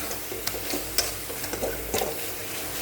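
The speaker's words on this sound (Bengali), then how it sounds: "এটাকে আমি আর একটু ভালো করে ভেজে তারপর নামাবো।" Shrimp paste mixed with spices fries in a pan as filling for ash gourd leaf fritters. A dense, continuous sizzle carries on throughout, with regular spatula scrapes and ticks from stirring.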